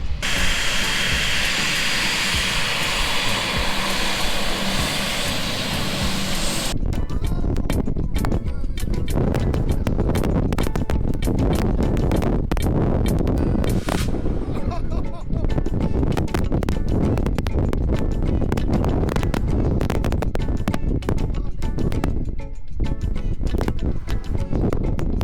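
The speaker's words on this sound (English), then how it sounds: "Another plane taking off." A British Airways passenger jet roars loudly during takeoff at Skiathos Airport, Greece, a broad sustained hiss and rumble close by that carries on for about twenty-five seconds.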